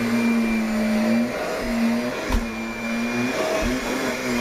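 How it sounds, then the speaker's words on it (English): A Kirby Sentria 2 upright vacuum cleaner runs over glued-down carpet, a close steady motor whine that dips and rises in pitch as it is pushed back and forth, with a couple of soft thumps. "Each time you vacuum over it, it comes out a little at a time."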